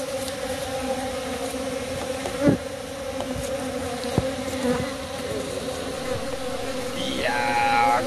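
A swarm of Japanese honeybees buzzes steadily around a hive box outdoors in spring, a dense continuous drone throughout, with a few louder passes of bees flying close and a brief high whistle-like sound near the end.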